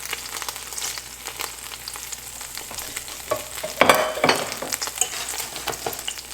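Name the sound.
cumin seeds sizzling in hot oil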